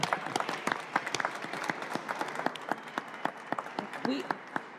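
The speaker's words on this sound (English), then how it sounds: "We have a mayor, we can clap it up." Enthusiastic applause from a crowd at a presidential inauguration in St. Louis, Missouri, dense and sustained clapping with a few louder sharp claps standing out.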